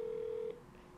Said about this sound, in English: It's gonna be ringing any second.